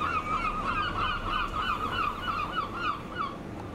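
Gulls calling above the Elbe estuary, a string of repeated honking, squawking cries that sit fairly near over a steady wash of wind and water noise.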